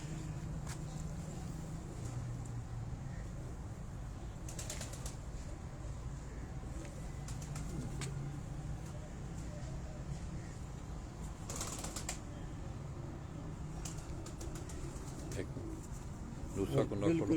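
Ali Wali breed pigeons coo softly and steadily at close range, with low murmuring calls running throughout amid faint wing flutters and background bird sounds.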